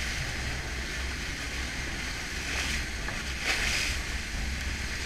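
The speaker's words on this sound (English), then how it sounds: "we hoisted the sail and headed back to St." A sailing catamaran crosses the open sea near St. Maarten, with steady wind rushing over the microphone and water washing along the hull, continuous and fairly loud.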